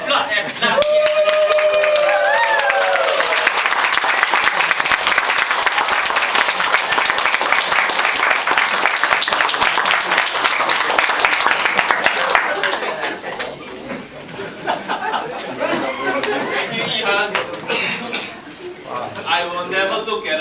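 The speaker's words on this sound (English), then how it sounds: "I invite you to stand up and applaud as loudly as" A club audience claps loudly and steadily for over twelve seconds, then the applause thins out into scattered claps while voices speak over it.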